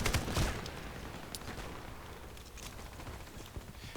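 Rapid automatic fire from a PKM light machine gun in a video game, a dense burst at the start that settles into a steady rattle of shots with some surrounding combat noise.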